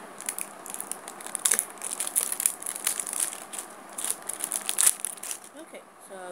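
A Pokémon card booster pack is torn open by hand, giving a run of close crinkling, crackling foil-wrapper noises with sharp tearing bursts over about six seconds.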